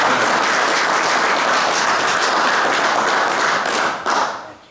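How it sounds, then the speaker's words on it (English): A crowd gives a sustained round of applause at a gathering in Fife, dense and steady for several seconds before tapering off abruptly near the end. "So a major golf clap for Baron Carl."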